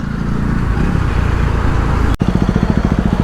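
KTM Duke motorcycle fitted with a barrel exhaust, a loud close-up engine rumble that drops out for an instant, then returns as a rhythmic, throbbing low pulse.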